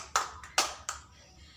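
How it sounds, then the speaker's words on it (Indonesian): A few scattered hand claps from classroom students, four sharp separate bursts spread unevenly over under two seconds, fairly quiet with no talk over them. "Tepuk tangan buat yang sudah mau menjawab."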